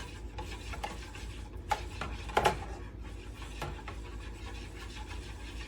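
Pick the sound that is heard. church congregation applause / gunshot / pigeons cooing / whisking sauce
whisking sauce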